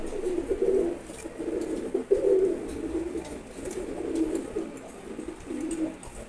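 A very active male pigeon coos repeatedly up close, a steady run of low rolling coos in a quiet setting with no talking.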